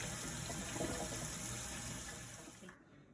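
A kitchen tap runs in a steady, full stream during pumpkin pie preparation, with water rushing close by for nearly three seconds before being shut off abruptly near the end.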